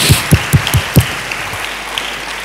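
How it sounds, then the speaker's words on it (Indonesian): Church congregation giving a round of applause, a handful of loud close claps in a quick uneven rhythm during the first second, then fading into a quieter murmur of room noise. "Boleh kita berikan tepuk tangan bagi Tuhan Yesus."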